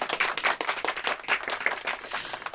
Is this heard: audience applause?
yes